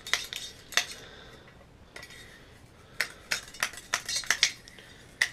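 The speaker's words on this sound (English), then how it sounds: "Sorry for the snapping noise, that's actually the rod." Sharp, irregular snapping clicks of a cleaning rod in a gun barrel, a dozen or so, scattered over a faint background hiss with brief quiet gaps between bursts.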